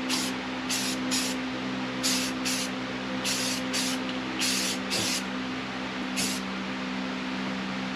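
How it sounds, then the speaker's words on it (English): A spray paint can hisses out a marking line across the bed of an International 1210 truck, with about ten short, sharp bursts over steady background hum. "So I'm going to take the spray paint and just kind of knock it over the top."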